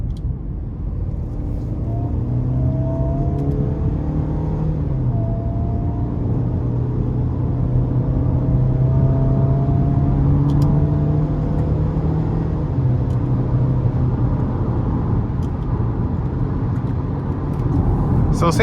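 A 2012 GMC Terrain SLE-2 with the 2.4 engine and 199,000 miles accelerates through gears in manual mode, with a steady cabin engine drone whose pitch climbs and drops at each shift under constant road rumble.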